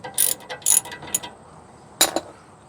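Ratchet clicking while removing 13 mm bolts from the rear brakes of a Ford F150, a few short, sharp bursts of ratcheting up close with pauses between strokes.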